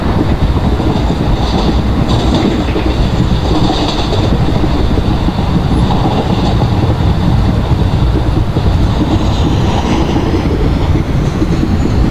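Passenger train running on tracks in the Open Rails simulator game on an Indian route, a steady loud rumble with rhythmic clickety-clack of wheels throughout, no break or pause.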